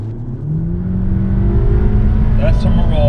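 A car in race mode accelerates hard, its engine note climbing steadily and growing louder over a few seconds as the gears are held longer, with people talking over the engine.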